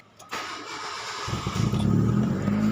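A Proton Satria car engine cranks and catches after its battery has been charging, settling into a steady, fairly loud running idle with no talk.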